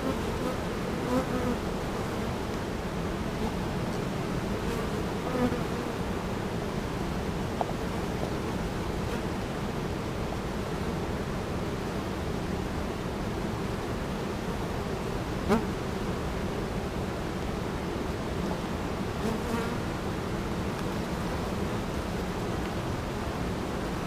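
Honeybees swarm around an open beehive, a steady close droning hum that fills the whole stretch without a break, with a few faint clicks and no talking.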